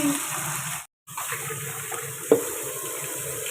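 Water runs steadily from a tap into a small bucket. The stream cuts out briefly and then resumes, with a single clunk near the end.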